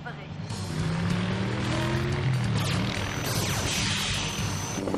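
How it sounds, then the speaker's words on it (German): Cartoon helicopter flying, a steady whirring engine roar held throughout with a bright sweeping tone, voices and busy soundtrack layered on top. "Ich folge dem Hubschrauber."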